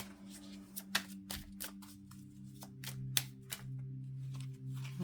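Oracle cards being riffle-shuffled close by, several sharp crisp bursts at irregular intervals over a low steady hum.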